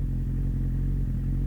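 The engine of a 1997 Suzuki Bandit 1200 motorcycle runs steadily underway with a deep, even rumble, close and continuous, with no talking.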